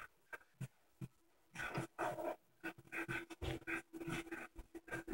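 A dog pants in The Last of Us video game, with quick breathy bursts that come in uneven runs and grow denser toward the end, close and moderately loud, with no speech.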